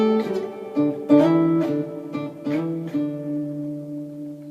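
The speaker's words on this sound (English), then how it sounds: "use them to slide around and create a sort of jazzy sort of sound like this" Electric guitar octaves slide between chords in a loose, jazzy phrase, notes bending up and down, then settling into a held ringing chord.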